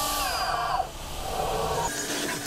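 A CNC mill roughs the outer diameter of an aluminum GoPro case back, giving a steady whining cutting noise with shifting tones that stays constant and fairly loud throughout.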